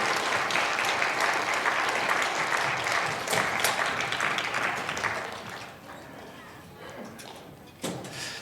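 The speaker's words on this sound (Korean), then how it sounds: "우리의 다음 세대를 위해서 우리 큰 박수로 축하하겠습니다." A church congregation applauds at a Sunday praise service, a broad wash of clapping that gradually fades and thins, with a few louder individual claps and bumps near the end.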